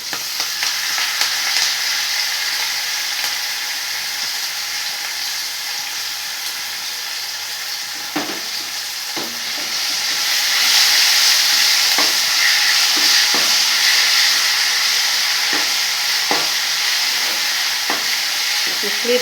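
Curry leaves and ground paste for a plantain chutney frying in a pan: a steady bright sizzle that swells louder midway, broken by occasional spoon scrapes and knocks.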